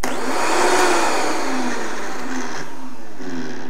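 Vitamix blender blending a smoothie with almond milk, a loud steady motor roar that holds constant with slight shifts in pitch as the contents churn.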